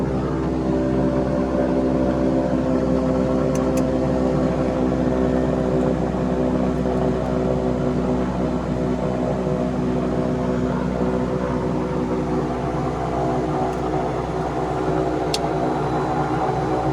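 Turboprop engines of a Piper Cheyenne IIIA run steadily after start, heard from the cockpit as a loud, constant droning hum with layered tonal whine and no talk over it.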